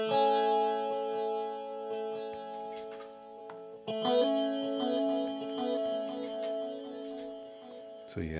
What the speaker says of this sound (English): So yeah, the chorus pretty much works or whatever.